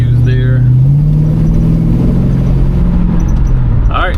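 A 1987 GMC Caballero rolls over a big dip, its engine humming steadily close by with a low rumble and a slight rise in pitch, while a voice talks over it throughout.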